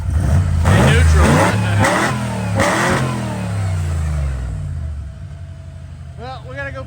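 A buggy's engine runs in neutral, a close, loud rumbling idle with a few quick revs at the start, while people talk over it.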